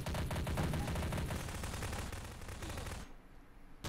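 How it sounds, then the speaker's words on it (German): Dense rapid gunfire from Trouble in Terrorist Town, a sustained loud burst of automatic shots filling the first three seconds before cutting off abruptly, with no talk over it. "Oh, guck mal, die schießen mich tot."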